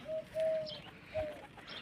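Pigeons coo softly nearby, two or three short low hooting calls separated by brief pauses, over quiet background noise with no voices.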